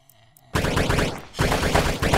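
Rapid automatic AK rifle fire in the zombie shooter game Zombie Raid, a loud dense burst starting after a quiet half-second, dipping briefly, then resuming in sustained volleys.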